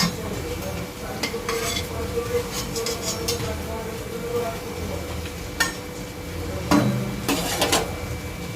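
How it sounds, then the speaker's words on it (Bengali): Onion fritters (peyaji) fry in oil in a wok with a constant sizzle, broken by occasional clinks and scrapes of a utensil against the pan, no voices. "আমি একটা সাইড দুবার করে ভাজছি।"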